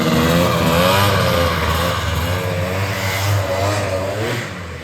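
A Polaris 650 snowmobile engine roars close and loud, revving with a steady, rising and falling buzz that holds for the whole stretch, with no talking.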